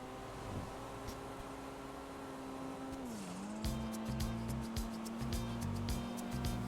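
A turbocharged car engine in a video game hums steadily at a constant pitch, dips briefly, then continues with rapid rattling pulses, moderately loud and close.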